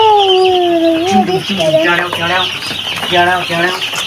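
Hens cluck close by in a farmyard flock, a long drawn call giving way to rapid repeated clucking bursts, with softer peeping from chicks underneath.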